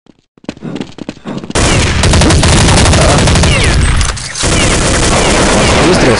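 Dense, loud gunfire from Counter-Strike 1.6 erupts after a second of sparse shots, a sustained automatic barrage that dips briefly near the end before continuing.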